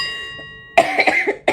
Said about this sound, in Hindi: एक तो इस खांसी ने बहुत परेशान कर रखा है